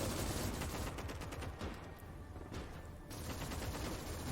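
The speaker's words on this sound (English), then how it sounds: "Why is the tank returning fire?" Distant rattling gunfire and battle noise from the World War II game Gates of Hell: Ostfront, with a tank among the combatants, form a steady, fairly faint wash without talk.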